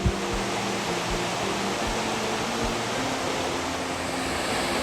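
A forceful waterfall on Oregon's Trail of Ten Falls roars in a loud, steady wash of rushing water, close by, with a few low thumps near the start.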